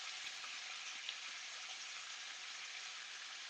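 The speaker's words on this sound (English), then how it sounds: "Cook this meat." Steak searing in a hot pan over medium-high heat for pepper steak, giving a loud, steady, continuous sizzle with no break and no voices.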